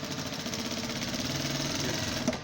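Sewing machine running steadily while stitching the seat seam of a pair of trousers, a continuous close mechanical whir with a fast rattling pulse and no pauses.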